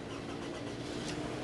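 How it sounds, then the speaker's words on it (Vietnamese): A 2012 Toyota Camry 2.4G engine turns over and runs. A steady, dense mechanical rumble and hiss hold close and even throughout, with no talking. "Đó, nổ máy lên nghe quý vị, quý vị có thể nghe và cảm nhận về cái khối động cơ này ạ."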